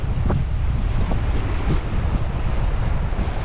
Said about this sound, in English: it's very, very windy, so I might get a lot of wind noises on the camera